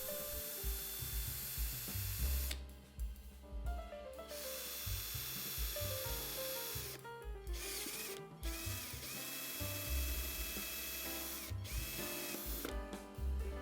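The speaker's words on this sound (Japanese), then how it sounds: "太い方のパーツの方にドリルで穴を開けていきます。" A drill bores a hole into a round acrylic pipe for an aquarium overflow, a steady mechanical whirring and grinding that runs throughout with brief changes in pitch, close and fairly loud.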